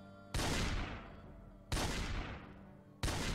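Shotgun blasts in Project Zomboid: three heavy, booming shots spaced about a second and a half apart, each with a long decaying tail, loud and close with no talking.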